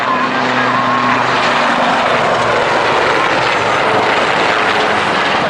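A Royal Navy Westland Lynx helicopter flies at an air show, a loud continuous roar of turbine and rotor that fills the whole scene.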